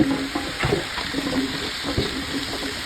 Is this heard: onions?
yes